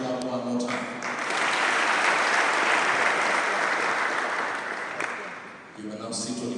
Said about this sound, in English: Unless you're jealous, can you clap one more time?